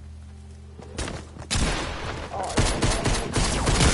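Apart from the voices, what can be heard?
shotgun fire in a video game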